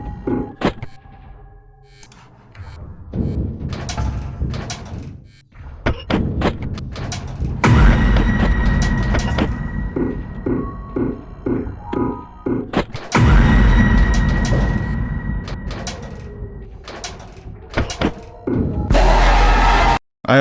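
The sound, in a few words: door opening in the video game Five Nights at Playtime Freddy's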